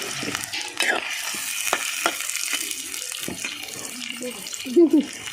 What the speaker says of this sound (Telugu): నూనె కాగింది కదా ఉల్లిగడ్డలు వేసుకొని ఉల్లిగడ్డలు మంచిగా ఎర్రగా అయినాకనే చికెన్ వేద్దాం